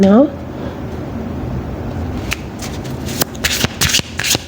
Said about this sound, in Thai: เดี๋ยวเราขอเปิดไพ่เพิ่มขึ้นอีกนิดนึงนะคะ